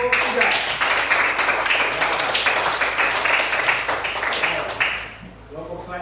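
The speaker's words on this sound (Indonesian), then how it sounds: "tepuk tangan untuk kelompok 3" A classroom group claps for the third team after its presentation, a dense, sustained burst of applause that fades out near the end, with voices mixed in.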